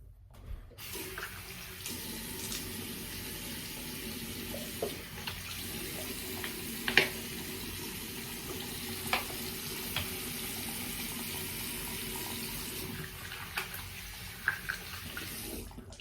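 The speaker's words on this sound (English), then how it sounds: "So I'll pause, I'll rinse a little bit" Running tap water splashes steadily into a sink while someone rinses mid-shave with a straight razor, a continuous close hiss broken by a few small clinks and splashes, with no speech.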